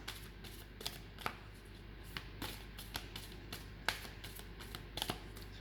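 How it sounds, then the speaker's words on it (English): A deck of cards is shuffled close by, a quiet run of soft riffles and taps repeated at an irregular pace over a low steady hum, with no talking. "first I'm just clearing the cards"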